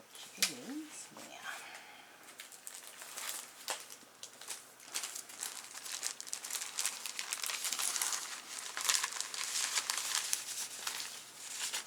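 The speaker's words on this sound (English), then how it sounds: "Now I want to cover that with some coffee paper" Coffee paper crinkled and handled at a craft table for a gluebook page, a close run of dry rustling and crumpling that grows busier, with a quiet voice at times.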